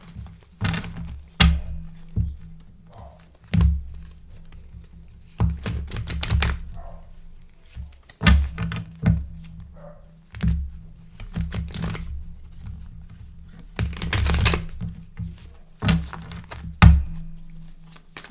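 Tarot cards shuffled by hand in repeated bursts of riffling and slapping thunks, close and fairly loud, separated by short pauses, with no talking.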